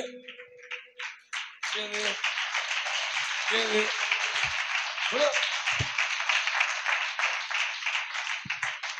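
A congregation at a fasting prayer meeting in Maranatha temple breaks into steady, rhythmic group clapping that runs for several seconds. A preacher's voice rings out over the claps near the start.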